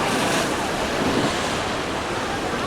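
Waves wash against the shore near Dwarka, where the Gomti River meets the sea, in a continuous loud roar blended with buffeting wind on the microphone, with no break.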